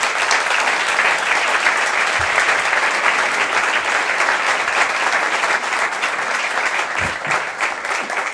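Sustained, loud applause from a large audience at a conference award ceremony, dense clapping that fills the space evenly for several seconds with only a few low thumps underneath.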